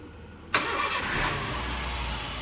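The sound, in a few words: used car engine starting and idling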